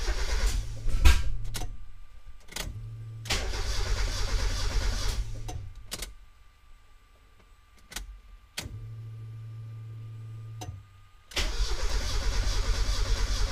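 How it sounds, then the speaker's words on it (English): A Mazda MX-5 Miata (NA) is cranked and started, with repeated bursts of engine turnover and running between quiet gaps; the engine catches several times, close and fairly loud, with no speech. "now it's time to start the car."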